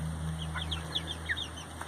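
Black Copper Marans chickens in a coop give soft, scattered clucks and short chirpy calls over a steady low hum, fairly close but quiet, with no one speaking.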